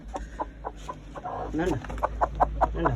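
A hen in a coop, apparently settled on her eggs, gives a run of close, rhythmic clucks that build into rising cackles toward the end, with some faint background noise.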